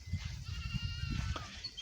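Goats bleat close by on a farm in Mumbwa, Zambia, with a few overlapping wavering calls over a low rumble of background noise in a short burst.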